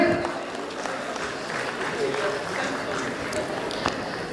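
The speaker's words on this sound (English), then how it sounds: "Give a round of applause for him." A round of applause from a convocation audience in a hall fills the clip steadily at moderate level, with a faint voice over the clapping.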